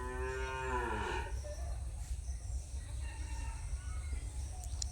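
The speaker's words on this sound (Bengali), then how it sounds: "আর এখানে আছি বলে দেখুন ছাগলগুলো কী যেমন মানে চিৎকার করছে।" Goats bleat loudly nearby, one long harmonic wavering call at the start, then fainter bleats and outdoor background noise.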